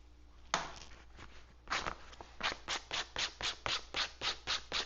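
Hand sanding or rasping the corners of a clean-cut wooden dowel to round it off, a few slow strokes then a steady run of about a dozen rhythmic rubbing passes, close and clear with no talk.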